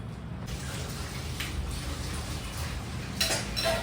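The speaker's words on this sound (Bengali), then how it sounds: "চলো আগে এগুলো ধুয়ে নেবো" Running water flows steadily from a tap into a sink while items are rinsed before cooking for a home puja. The stream is close, with occasional clinks of dishes or utensils and no speech.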